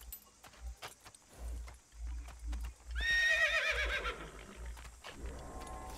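A horse in the Assassin's Creed video game gallops with steady clip-clop hooves, then lets out a loud, close whinny midway through, followed by more hoofbeats and faint tack jangling over game sounds.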